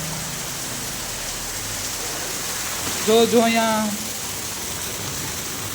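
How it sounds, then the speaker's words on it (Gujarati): Heavy rain pours steadily in Jamaica during a thunderstorm, a dense constant hiss throughout, while someone speaks briefly in the middle over it. "ફૂલ ક્યારનો વરસે છે મિત્રો વરસાદ."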